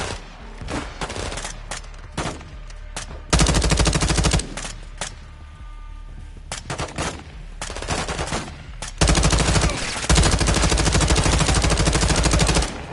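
Heavy automatic gunfire in a Call of Duty Modern Warfare 2 prison-break battle, long sustained loud bursts of machine-gun fire separated by scattered single shots and quieter gaps.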